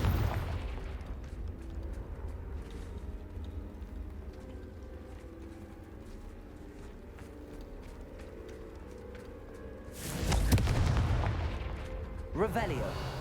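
A Confringo blasting spell explosion in Hogwarts Legacy, a sudden loud boom bursting out after a stretch of low rumbling game ambience, followed by a second, shorter blast.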